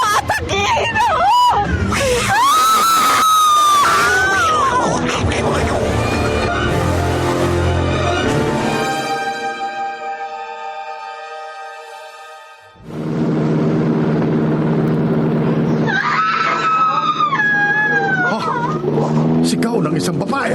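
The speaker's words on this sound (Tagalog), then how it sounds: "Sigaw ng isang babae." A woman's high, sustained scream rises out of loud, dense drama-style sound, fades into near silence, then returns under a thick wash of noise in a horror radio-play setting about an aswang.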